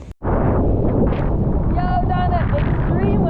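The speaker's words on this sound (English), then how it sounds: "the wind is absolutely howling" Strong wind buffets across a lake at a wakeboard cable park, roaring steadily and close against the microphone, with a voice speaking over it.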